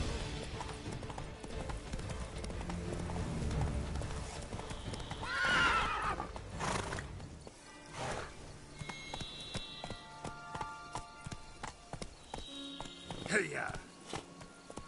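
Roach, the horse in The Witcher video game, clip-clops along at pace with a loud whinny partway through, hoofbeats continuing in a quicker rhythm afterward amid game sounds and shouting voices.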